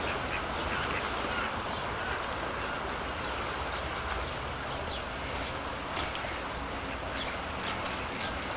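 Ducks quack repeatedly, faint and somewhat distant, over a steady wash of background noise like flowing water.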